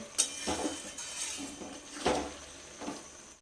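A spoon stirs a ridge gourd mixed vegetable curry in a pot, giving soft, sparse metallic clinks and scrapes, about four distinct knocks over a quiet background.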